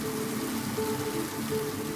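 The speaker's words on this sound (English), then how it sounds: "It's been raining cats and dogs for days." Steady rain falls in Snowdonia, Wales, a dense continuous hiss of drops on surfaces, loud and unbroken with no voices.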